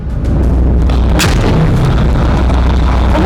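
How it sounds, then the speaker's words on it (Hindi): A Merkava tank destroyed by a mortar blast, a heavy booming explosion with a sharp crack near the start and a loud, dense roar that rumbles on through the whole stretch. "इसके बाद जोर का धमाका हुआ और टैंक नष्ट हो गया।"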